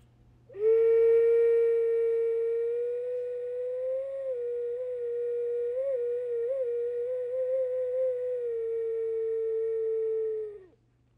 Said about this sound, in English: I'm going to send you all back with my beautiful owl whistle.